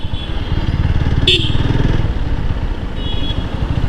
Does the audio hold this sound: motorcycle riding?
yes